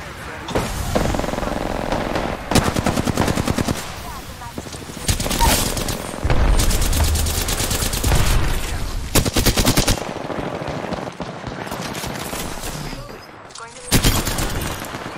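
Rapid gunfire from an Apex Legends match, dense automatic bursts and single shots crackling close and loud through most of the stretch, with a brief lull near the end before another volley, someone talking over the shooting.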